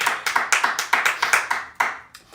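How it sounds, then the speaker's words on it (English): A couple of people sitting at the back of a live piano concert paying tribute to Eubie Blake clap in a steady, quick rhythm of about a dozen sharp, close claps that trail off near the end. "my parents are sitting in the background clapping"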